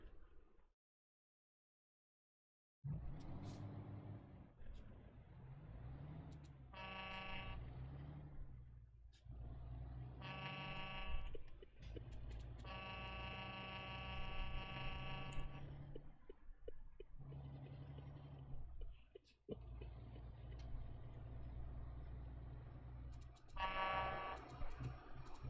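MAN TG3 TGX truck in Euro Truck Simulator 2, a steady low engine rumble running throughout after a brief silent start, with intermittent buzzing tonal warning chimes layered on top.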